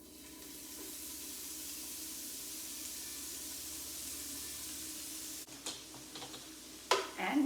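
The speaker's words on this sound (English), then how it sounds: "we want to give these just a little quick fry here" Onions dropped into hot bacon fat in a frying pan for quiche Lorraine, a steady soft sizzle close by for several seconds, then a few clinks and utensil knocks near the end, no talking.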